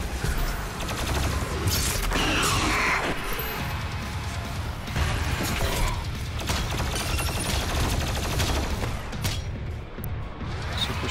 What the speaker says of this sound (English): Super shotgun as well.